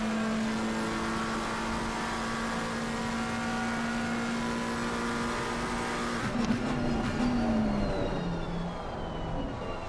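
Race cars from Assetto Corsa Competizione, a BMW and a Mustang, in a four-hour big-grid race at Imola, roaring steadily with high engine whine, then a car passes and its pitch drops sharply near the end.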